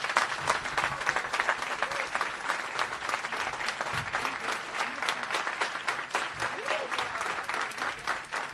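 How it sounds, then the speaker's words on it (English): A crowd at a Juneteenth celebration gives sustained applause for a speaker, full and continuous, with scattered louder claps standing out from the roar. "Please clap it up for Faith."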